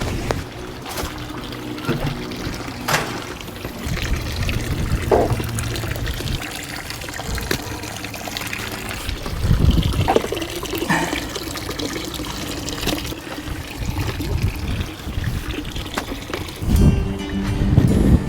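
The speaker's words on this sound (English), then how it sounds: "the water's pumped up into this bed underneath." Water spills and trickles continuously from pipes into planter beds that filter a garden koi pond, with gusting wind noise and occasional louder splashy surges; no talk.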